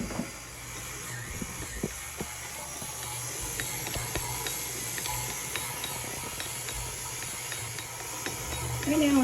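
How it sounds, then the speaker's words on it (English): A stand mixer kneading shaggy sourdough discard bread dough, giving a continuous mechanical whir and hiss with repeated small ratcheting clicks, steady and close, growing slightly louder at the end. "stick it in the mixer, lock it, let it go for 30 seconds"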